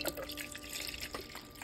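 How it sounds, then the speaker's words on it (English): Water pours and trickles into a coffee maker's reservoir, a soft continuous splashing with small drips, fairly quiet and close, with no voices. "You put the water in there."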